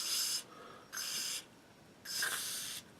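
Three bursts of soft broadband rubbing, each about half a second long and spaced by short pauses, as lubricant is worked by hand onto a gas airsoft gun where the paint has worn off. The rubbing is close and quiet, with no talk.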